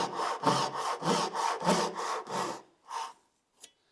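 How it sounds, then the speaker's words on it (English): Japanese rip saw cutting wood in about eight quick, even strokes, each a close, coarse rasping pull, the rhythm slowing and fading toward the end with one last faint stroke. "Now the rip saw."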